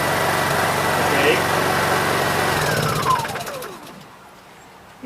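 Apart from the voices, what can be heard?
Honda EU2200i generator starting and idling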